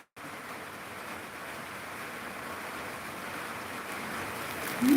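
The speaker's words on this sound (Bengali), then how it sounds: "প্রচণ্ড বৃষ্টি হচ্ছে" Heavy rain falls steadily as a dense, even hiss that holds at a constant level throughout, with no voices over it.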